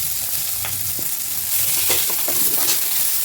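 Mashed boiled potato tossed with spices in hot oil over low flame, a steady oil sizzle with a few soft scraping stirs, close and continuous.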